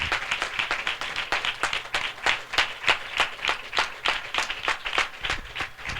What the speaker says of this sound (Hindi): हम जोरदार ताली से उनका स्वागत करें।